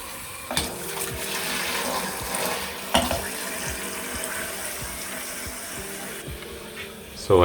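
Water runs steadily from a newly installed black shower faucet's hot-water outlet in a bathroom renovation, a continuous close hiss with a few brief clunks and knocks of handling.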